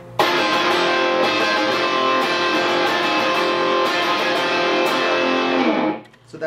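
Distorted electric guitar sustains a minor barre chord, a finger lifting on and off the minor third to shift the chord, loud and steady for about six seconds before cutting off.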